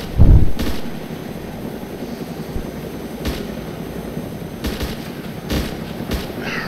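Gunfire in a combat video game: one sharp loud shot at the start, then several scattered distant reports over a constant windy, rumbling background.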